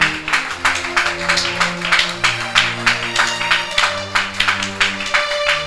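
A church congregation at a worship service claps loudly in a steady rhythmic beat over sustained music tones, with no distinct cheering.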